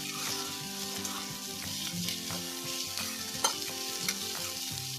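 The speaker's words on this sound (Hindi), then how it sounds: "अब इसको भी हम 2 मिनट्स के लिए सॉटे कर लेंगे" Capsicum and red bell pepper with onion sauté in a pan, giving a soft, steady sizzle with occasional stirring clicks, faint and continuous over a quiet tonal background.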